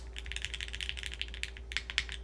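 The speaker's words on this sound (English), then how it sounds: "No feedback or anything like that either from the typing experience here." Quick, uneven keystrokes clack on a Capy60 R2 mechanical keyboard, close and crisp, in a busy run with a couple of sharper bursts near the end over a low steady hum.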